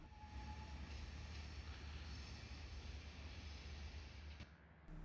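A train and a shunting locomotive assembling carriages for the Bodø service rumble steadily at a distance, a continuous broadband rail drone with low engine hum that cuts off abruptly near the end.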